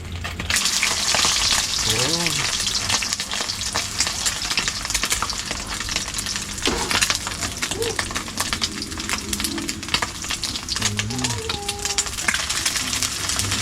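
Food frying in cooking oil gives a steady, loud crackling sizzle throughout, with brief stirring knocks and a voice speaking faintly at moments.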